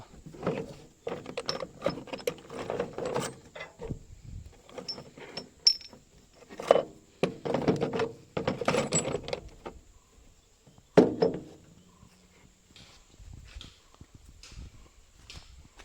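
Metal hitch pins clink and clatter as they are pushed in to fix an implement onto a tractor: sharp, scattered metallic knocks with short pauses, close by.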